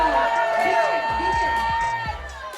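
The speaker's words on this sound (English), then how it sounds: "Cheer for your teams, everyone." Crowd aboard the Carnival Sunrise cruise ship cheering and shouting for colored teams at the start of a deck game, a lively sustained mix of many voices with a few higher shouts standing out.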